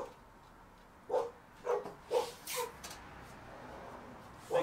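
A dog barks four times in quick succession, fairly distant and moderately loud, in a workshop where a cradle cart is being fabricated, with one more bark at the very end.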